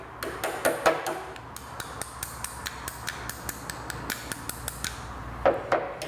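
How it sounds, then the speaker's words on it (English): A scooter disc brake's pad retaining pin is tapped into place with a steady series of sharp, close metallic taps at an even rhythm, with a few harder strikes near the start and the end. "You can just tap the pin all the way home."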